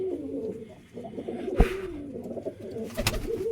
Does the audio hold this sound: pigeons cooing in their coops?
yes